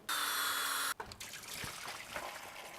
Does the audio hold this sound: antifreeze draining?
yes